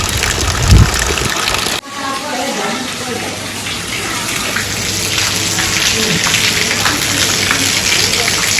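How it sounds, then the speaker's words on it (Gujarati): Heavy rain pours down in a dense, continuous roar that stays steady throughout, with a brief thump near the start and faint voices under it. "વરસાદ જોરદાર પડે છે."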